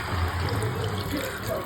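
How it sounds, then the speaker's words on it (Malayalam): Water is poured into a pan of Kerala-style chicken curry, a short, steady splashing stream at moderate volume. "കുറച്ച് വെള്ളം കൂടി ഇതിനകത്ത് ചേർക്കാം."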